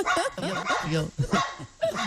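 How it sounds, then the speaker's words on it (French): A dog barks and yips in short bursts close by while someone speaks, with soft whimpering between the calls. "Figaro, viens mon chien, Figaro."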